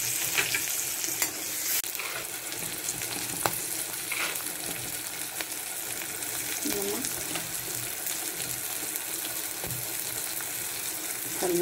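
Garlic frying and being stirred in a pan for a village-style roselle leaf fish curry, a continuous close sizzle with scraping stir noises and some running water in the background.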